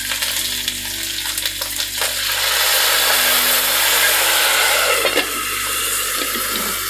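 Tomato paste goes into a sizzling pan while cooking Romanian guinea fowl ostropel, and a loud, close hiss swells and holds for several seconds after a few clattering pan sounds.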